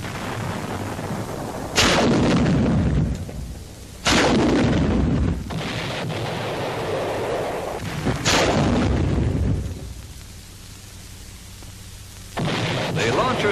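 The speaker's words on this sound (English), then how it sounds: "Now, using smoke rockets, the launcher is mounted on the armored vehicle." Smoke rockets launch from a turret-mounted launcher on a 1944 engineer armored vehicle: four sharp, loud whooshing blasts a couple of seconds apart, each trailing off into a rushing roar.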